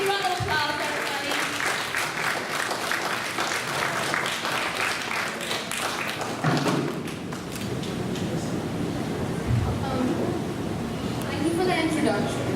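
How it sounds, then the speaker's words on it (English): Audience applause fills a hall as a student speaker is introduced at a school event, a dense steady clapping that runs throughout, with a few thumps and crowd noise mixed in. "Big round of applause, everybody."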